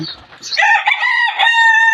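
Egyptian Fayoumi farm chickens, with one loud, close, harmonic crow-like call rising after a brief rustle and holding steady to the end.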